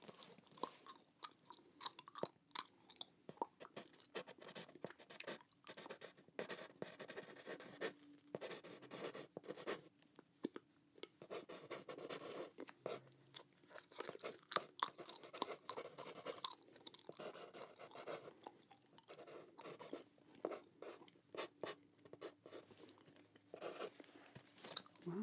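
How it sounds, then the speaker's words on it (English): Close, quiet pen strokes scratch across a clipboard in short bursts and pauses, with faint chewing sounds mixed in. "Let me just write down some of this pertinent"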